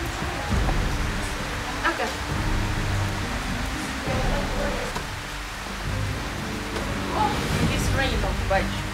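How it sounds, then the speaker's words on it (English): Rain falling in a steady, dense patter throughout, with faint scattered drips and low rumbling, while muffled voices sound at times underneath. "it's rain"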